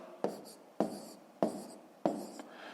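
Four crisp, evenly spaced strokes of a pen on paper, each a sharp tap followed by a brief scratch, close and quiet in an otherwise still room as numbers are written out for long division.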